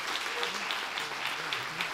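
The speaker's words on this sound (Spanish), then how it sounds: "Y por favor, un aplauso muy fuerte para Pedro." Steady applause from a crowd, dense continuous clapping throughout at moderate level, with a faint voice underneath.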